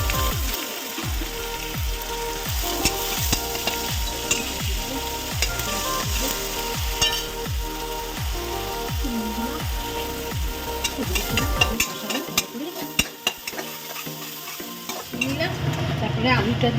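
Dried chillies, bay leaves and spices fry in oil in a pan, with a steady loud sizzle and rhythmic scraping stirs that run through most of the clip and then ease off.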